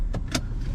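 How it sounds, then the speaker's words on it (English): A 2021 Renault Megane facelift with the TCe 140 engine comes to life at the press of its start button: two quick clicks or whirs over a low steady engine rumble inside the cabin. "I will press the start engine button and the car comes to life."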